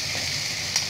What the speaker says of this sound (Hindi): और इसे 2 से 3 मिनट तक स्लो फ्लेम पे भून लेंगे हरे मसाले को